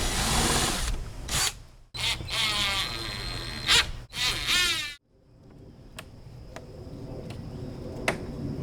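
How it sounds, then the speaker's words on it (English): A power drill bores pilot holes for screws in the door of a rolling tool supply trailer, several short loud whirring bursts with brief gaps, followed by quieter clicks and light tapping, no talking. "pre-drill the holes"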